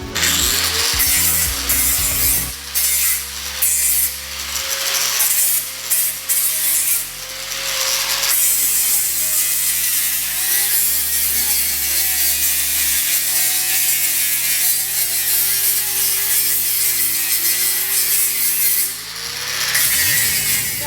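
A power tool grinds and sands the welded, gusseted area of a cut Yamaha XS650 motorcycle frame, a loud continuous harsh whir with pitch dips as the tool bears down, briefly pausing and restarting, close up, with no speech.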